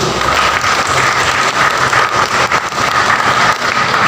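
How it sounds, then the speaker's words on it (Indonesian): A church congregation at an Easter service and 36th anniversary celebration claps together in steady, dense applause, loud and close, filling the whole moment without any voices over it. "Sekali lagi boleh tepuk tangan Bapak Ibu."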